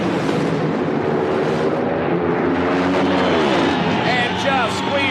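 Drag racing funny cars, a Dodge in the far lane and an Oldsmobile in the near lane, roar in a loud, continuous engine blast with shifting pitch sweeps, under steady commentary talk.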